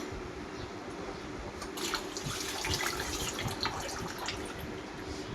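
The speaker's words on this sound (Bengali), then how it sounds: "আমি ধনিয়া পাতা ধুয়ে নিচ্ছি" Coriander leaves are washed in water, a steady close-up splashing and trickling that runs throughout with slight surges near the middle.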